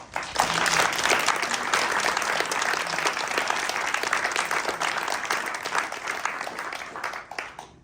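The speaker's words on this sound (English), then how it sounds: "if we don't mind just doing another round of applause for all of the writers" An audience at a theatre program of cancer stories gives a sustained round of applause for the writers, dense crowd clapping that starts abruptly, holds steady, and tapers off toward the end.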